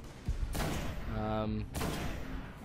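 Sniper rifle in the Destiny beta firing two heavy booming shots about a second apart, each trailing a rumbling echo, with someone talking over the action.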